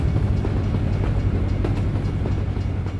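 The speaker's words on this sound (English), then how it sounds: "We have a train coming." A freight train pulled by a single locomotive and carrying a lot of cargo rolls past in American Truck Simulator, a loud continuous low rumble with rhythmic clacking of the wagons close by.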